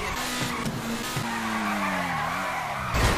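A car in GTA V skids at full throttle with a loud, sustained engine drone and tire squeal that sweeps slightly in pitch, ending in a brief louder burst.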